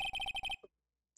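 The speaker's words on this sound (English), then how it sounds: "I thought I was hearing a phone ringing." A phone rings in the video game Phoenix Wright: Ace Attorney: a rapid electronic trill of about six quick pulses, clear and close, that cuts off abruptly into silence.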